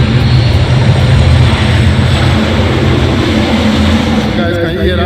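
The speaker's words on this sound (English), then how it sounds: "That is the sound of airplanes trying to take off." Airplanes taking off near an airport in Jamaica, a loud continuous engine roar and rumble filling the whole stretch, close and steady with a faint change in pitch near the end.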